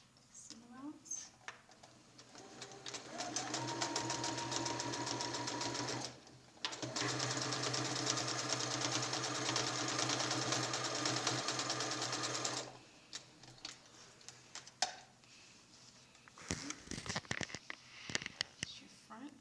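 A sewing machine stitches a pullover seam with a 5/8 seam allowance, humming in two long steady runs separated by a short pause, with a quiet voice talking before and after.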